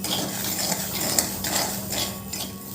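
Amaranth (rajgira) roasts in a pan on a low flame while a spoon stirs and scrapes it, making a continuous soft rustling and clinking close by with no talking.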